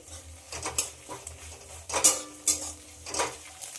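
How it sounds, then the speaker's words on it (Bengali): Two eggs being scrambled in a pan for egg bhurji, a metal spatula scraping and clinking against the pan in irregular strokes, near and moderately loud, with no voices. "এবার ডিমের ভুজিয়া বানিয়ে নেব। আমি এখানে দুটো ডিম ব্যবহার করলাম"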